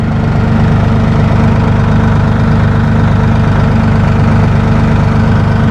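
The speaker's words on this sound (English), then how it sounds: "There's your engine decibels at idle speed" Massey Ferguson 1840E hydrostatic compact utility tractor with a 39.4 hp engine idling steadily, a close, even low rumble with a faint knock running unchanged throughout with no talking.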